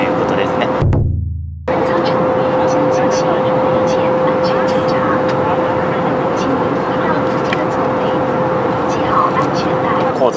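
A Juneyao Airlines jet carries passengers from Shanghai to Guilin, nearing its descent. Inside the cabin a constant broadband roar and a thin steady hum continue, broken only by a brief dip near the start.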